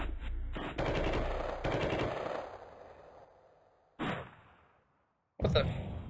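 Gunfire in the game Sift Heads 2: Hitman With Attitude comes as loud bursts of rapid machine-gun shots early on, then a long decaying tail, and two more sharp blasts separated by near silence.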